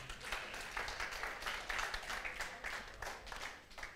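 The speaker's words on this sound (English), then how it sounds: "I think I deserve a big round of applause" Church congregation clapping during an English service, a brief burst of many hands applauding that swells and then tapers off, moderately loud with no talk over it.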